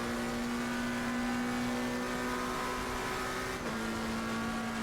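McLaren sports car, successor to the 720S, accelerating on a track, a steady engine drone with a rising tone heard from inside, constant and moderately loud.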